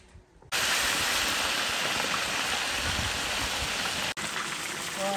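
A large fish of about 4 kg is dropped into a hot wok over high heat, and a loud, dense sizzling hiss bursts in abruptly and roars on steadily, briefly dipping once before continuing.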